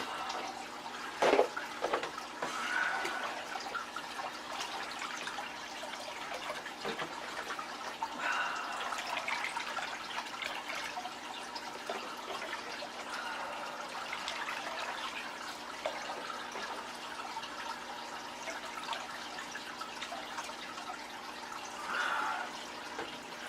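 Aquarium water being stirred during a water change, a continuous soft sloshing swirl of water with a few brief splashes, fairly even in level throughout.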